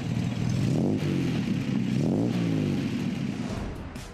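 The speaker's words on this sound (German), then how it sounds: "Für satte Leistung und spektakulären Sound sorgt der ursprünglich von Morris entworfene BMC" An Austin-Healey 3000 with its BMC C-Series engine runs loud and close, a steady throaty rumble with two rising revs and clattering mechanical noise, and no voices.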